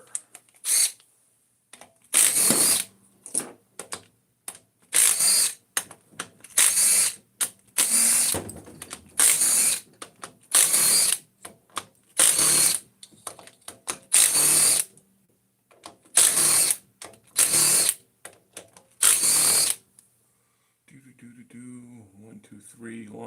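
A ratchet, likely 10 millimeter, backs out transmission valve body bolts on a 4L60E in repeated bursts of rapid clicking with short pauses, close and loud, then the clicking stops and quieter handling follows.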